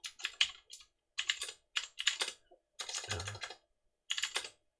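Quick bursts of clattering keystrokes on a computer keyboard, close and fairly quiet, arrive in uneven clusters separated by short silences, with no talking.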